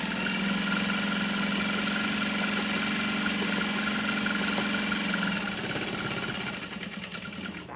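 A sewing machine hums steadily as a fabric strap is guided through under the needle, the motor whirring evenly for several seconds before slowing and winding down near the end.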